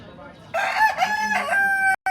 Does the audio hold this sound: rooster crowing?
yes